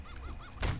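A bird in the 7 Days to Die survival game gives a few quick, goose-like honks, fairly faint, followed by a louder thump near the end.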